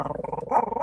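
A dog nearby growls in a low, rapid, pulsing rumble that swells into a louder snarl near the end, brief and close with no talking.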